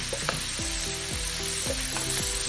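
Vegetables sizzle steadily in olive oil in a pan, with a constant close frying hiss and repeated scraping strokes of stirring scattered over it.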